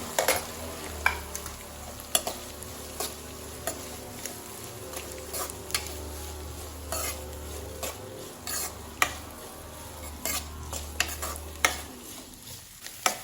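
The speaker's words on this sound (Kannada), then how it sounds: "ಈರುಳ್ಳಿಯನ್ನು ಹಾಕಿ ಫ್ರೈ ಮಾಡ್ಕೊಳ್ತೇನೆ" Onions fry in oil with peanuts for capsicum rice bath, a soft background sizzle broken by frequent sharp scrapes and taps of a spatula stirring against the pan, with no talking.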